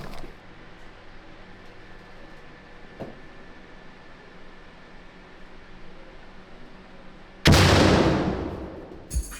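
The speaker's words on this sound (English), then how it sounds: "Grenade prepared and ready to be thrown" A live hand grenade detonates during military basic training, one sudden loud distant blast after a stretch of quiet outdoor ambience, followed by a rumbling decay.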